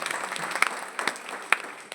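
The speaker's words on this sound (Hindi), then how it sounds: "एक बार जोरदार तालियां काजल मैम के लिए" Applause at an RCM ULP program event for Kajal ma'am: a short burst of crowd clapping with a few sharper, louder claps standing out, steady and fairly close across the whole moment.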